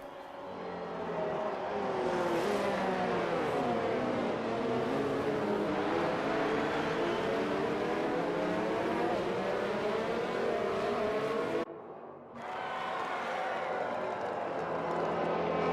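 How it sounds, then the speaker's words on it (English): F1 cars in the F1 2019 racing game run together behind the safety car at the US Grand Prix, engines droning loudly and continuously with shifting pitch, cut by a brief dip before the roar resumes. "these guys are going to try and catch up to the back of the pack here behind the safety car"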